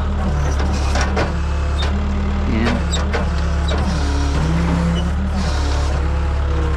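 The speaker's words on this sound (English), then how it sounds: "Wheel lift out. Never mind, wheel lift's just digging today." A tow truck's wheel lift digs into the ground under a constant low engine drone, with a wavering hydraulic whine that rises and falls and a few sharp clicks on top.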